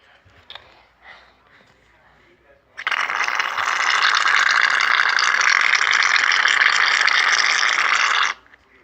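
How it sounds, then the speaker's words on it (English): A nearly empty can of shaving cream sputters in one continuous harsh hissing burst of about five seconds, close and loud, after a few soft handling knocks. "Your shaving cream shouldn't sound like this, but mine's almost out"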